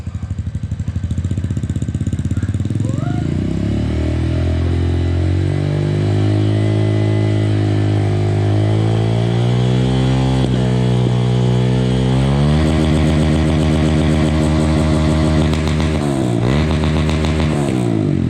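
A motorcycle engine revs hard and holds high against the rev limiter, reaching about 88 to 89 decibels, its buzzy exhaust note rising, stuttering and dropping, close and loud throughout.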